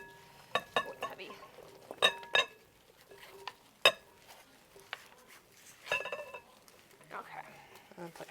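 Ingredients for a salmon recipe, bright colourful chopped vegetables, being stirred by hand in a bowl, giving scattered clinks and scrapes of a utensil against the dish with quieter rustling between, close by while people talk.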